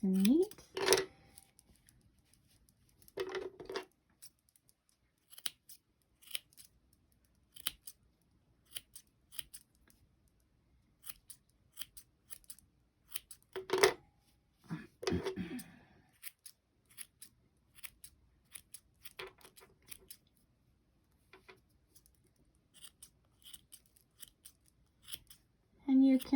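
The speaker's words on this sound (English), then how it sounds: "now we're going to trim our pom-pom. Just make it look nice and neat." Scissors snip around a small crocheted yarn pom-pom for a tiny dog or kitten hat, with sharp close cuts arriving in scattered bursts separated by quiet pauses, and occasional faint talking.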